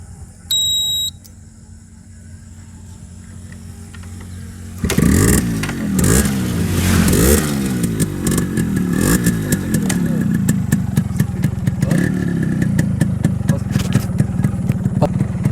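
A Yamaha RX 100 motorcycle sits quiet after a couple of short beeps, then its engine fires and revs loudly up close, the pitch climbing and dropping through repeated throttle blips and gear changes.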